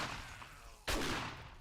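A single sharp gunshot in the video game 7 Days to Die cracks loudly partway through and leaves a decaying, echoing tail over faint game ambience.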